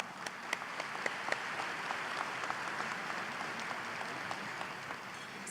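An audience at the MEC Powerplay 66th annual meeting applauds steadily for several seconds, a dense, even patter of many hands clapping in a large room.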